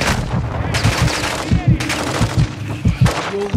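Gunfire in a Call of Duty video game: rapid automatic bursts of shots in a steady staccato rhythm, loud and close, with heavy thumping reports repeating throughout.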